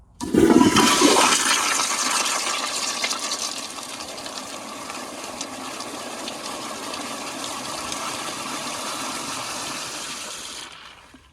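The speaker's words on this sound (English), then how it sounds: "the flushometer is very ridiculous, but yeah, let's give it our flush" A loud Kohler Highcrest toilet flushometer flush bursts out with a powerful gush, then settles into a steady rushing hiss of water that runs for several seconds before cutting off.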